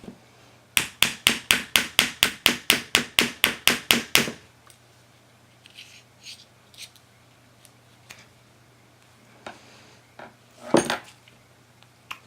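A hammer taps a small flathead used as a punch to drive out a pin from the piston body of a KWA LM4 airsoft rifle, sounding as about fifteen quick, sharp metallic strikes in a steady rhythm, close and loud, followed by scattered faint handling clicks and one louder clatter.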